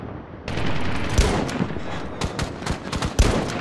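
Rapid rifle gunfire in the shooter game Medal of Honor: a busy run of sharp, close shots in quick irregular bursts over a steady background of game noise.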